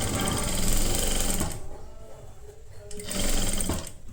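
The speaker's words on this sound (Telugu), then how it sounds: "ఇప్పుడు ఇటు సైడ్ కూడా స్లీవ్స్ లాక్ స్టార్ట్ చేసుకోవాలి." An overlock sewing machine stitches the sleeves of an A-line kurti, running loud and close in a steady whir that drops away for about a second and a half before starting up again.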